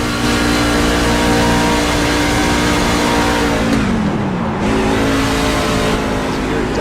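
Sim race car at Auto Club under green, its engine droning steadily at high revs before the pitch sags as the throttle is lifted, then climbs back; loud and continuous with commentary over it.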